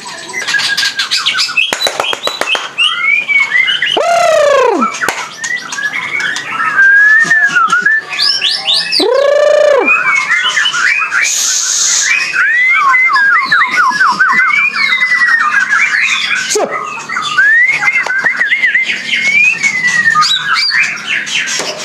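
A white-rumped shama (murai batu) sings loudly and continuously up close, pouring out varied whistles, rising sweeps, chirps and harsh squawks in a rapid, unbroken stream with no talking.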